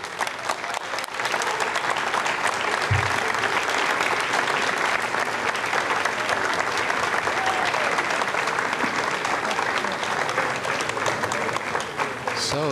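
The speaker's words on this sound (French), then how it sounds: "Alors ici, vous avez entendu les applaudissements, les sourires." Sustained applause fills the Ariane 5 launch control room at Jupiter in Kourou during the VA236 flight carrying SGDC and Koreasat-7, a dense steady wash of clapping lasting throughout with a faint murmur of voices beneath.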